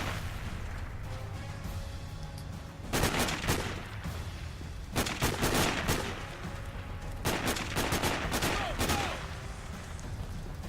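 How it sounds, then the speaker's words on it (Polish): Rapid video game gunfire from Sniper Ghost Warrior comes in three loud bursts separated by quieter pauses, sounding like sustained automatic fire. "słyszę strzały"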